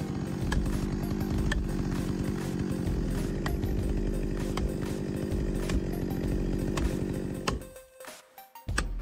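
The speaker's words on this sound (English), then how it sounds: "The chainsaw machine, a symbol of technological progress in forestry, has revolutionized the efficiency of tree cutting" Chainsaw cutting through trees, its engine roaring steadily and close with a sawing rhythm for about seven seconds, then cutting out abruptly into near silence with a few faint sputters and knocks.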